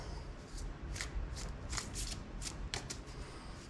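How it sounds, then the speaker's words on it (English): Thoth tarot cards being shuffled by hand, a run of riffling, papery bursts at an uneven rhythm, close and fairly quiet, with no talking. "Now I'm going to pull out of a deck that I'm more familiar with. The Thoth deck."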